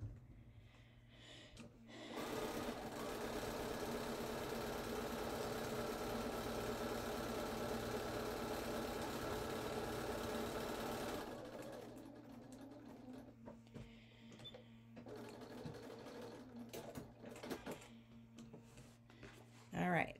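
A sewing machine stitches a seam on a Japanese komebukuro rice bag, running in one steady, loud mechanical whir for about nine seconds before stopping, with quieter handling sounds afterward.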